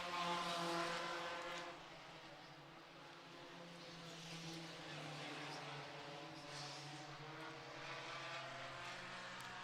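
Race cars powering off a corner at Franklin County Speedway, their engines forming a steady layered drone that swells loudest at the start, then settles into a distant, continuous roar.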